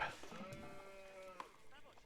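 A single sheep bleat from the Age of Empires IV video game, a short wavering cry sitting under a commentator's ongoing talk during a tournament match.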